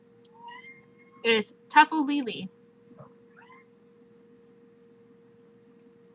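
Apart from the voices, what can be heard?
cat meowing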